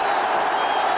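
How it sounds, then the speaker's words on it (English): Massed cheering and clapping from football supporters at Ayresome Park after Middlesbrough's Ernie Slaven scores against Villa in 1990. The noise is a continuous, even roar with no pauses. "And the crowd here have gone absolutely bananas."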